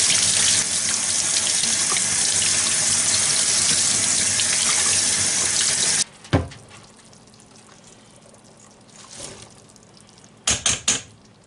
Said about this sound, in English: I'm going to go ahead and put them in the colander and rinse them